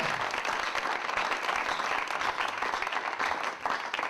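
A church congregation applauding the Lord during a French-language service, dense continuous clapping from many hands filling the room at an even level.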